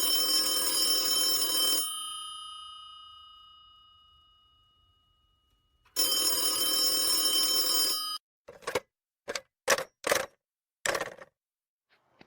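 An old-style telephone bell rings in two long loud bursts separated by a fading pause, followed by a few short sharp clicks and clanks of the handset, with no talking.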